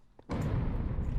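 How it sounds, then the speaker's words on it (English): A Growtopia-style explosion from a Minecraft resource pack, a sudden loud low boom that bursts in after a short quiet lead-in and holds as a dense rumbling blast. "I'm not sure when that explosion sound is played in Growtopia"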